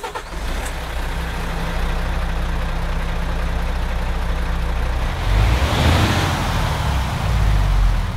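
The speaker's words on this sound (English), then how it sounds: "But I'll go ahead and fire it up so you can listen to it." A video game International HX520 truck with a Cummins engine starts up and settles into a deep, steady diesel idle, with a louder surge and hiss near the end.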